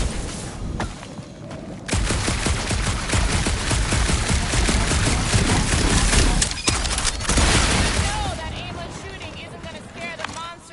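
Rapid gunfire crackles in Guardians of the Galaxy inside a dark ruined area, with dense bursts of shots running for several seconds, close and loud, before tapering off as a voice speaks.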